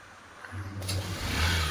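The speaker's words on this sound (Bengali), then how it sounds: "ও এখন বাইকটা স্টার্ট দেবে" A motorbike engine starts up nearby, a low hum that catches and swells into a rising rev with a brief metallic click partway through, fairly faint and without voices.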